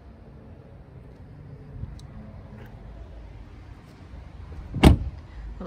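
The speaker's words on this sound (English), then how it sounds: "electric windows in the rear." The rear electric window motor of a SEAT Leon hatchback whirs quietly inside the car, ending in a sharp loud thud as the glass seats, over low cabin hiss.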